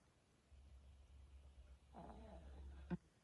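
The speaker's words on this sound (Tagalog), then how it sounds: "Humihilik siya, oh. Narinig mo?" Soft, low rumbling snores from a puppy, quiet and close, with a faint breathy snort near the end.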